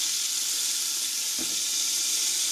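Flour-dredged beef pieces browning in a pan make a steady, even sizzling hiss throughout, with one soft low knock partway through and no talking.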